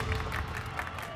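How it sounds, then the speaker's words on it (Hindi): A group of people at a celebrity competition game applaud in a brief, moderately loud burst of steady clapping, with voices mixed in. "क्या ये सब लोग यहाँ ताली क्यों बजा रहे हैं?"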